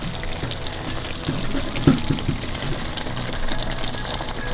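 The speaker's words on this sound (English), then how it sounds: "we're going to add the cream now" Cream is poured into a chicken curry in a pan, making a soft, steady liquid pour and gentle simmer close by, with one small clink partway through.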